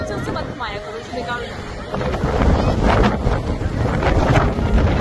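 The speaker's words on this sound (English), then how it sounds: "it was very windy and the sand were getting into eyes, into clothes" Strong gusting wind on a beach at Umm Suqeim, Dubai, with blowing sand, buffets the microphone in a heavy low roar that builds and stays loud, with faint voices underneath early on.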